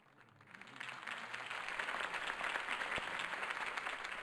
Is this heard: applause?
yes